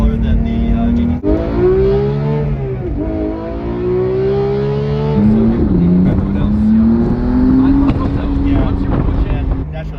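A McLaren Artura hybrid supercar accelerating hard through the gears, its engine note rising steadily in pitch with brief drops at each upshift, loud and close with some wind noise.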